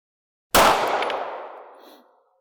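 A single sharp gunshot from a handgun fitted with a red dot sight, fired at a target on a range, loud and close with a ringing tail that fades over about a second and a half.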